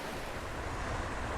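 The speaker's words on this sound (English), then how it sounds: "it's nice being at a nice big California river again" A big river rushes in Kings Canyon, California, a dense steady roar of flowing water heard up close with no voices.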